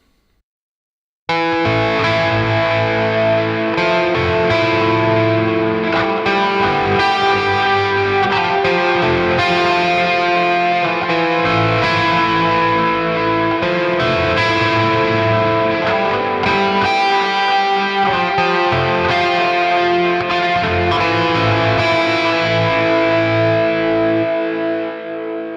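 A distorted electric guitar plays chords and lines washed in echoing delay and reverb from NeuralDSP plugins, steady and loud for about twenty-five seconds with no talking.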